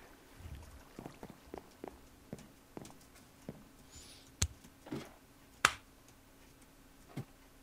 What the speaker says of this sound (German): Habe das Klatschen gehört.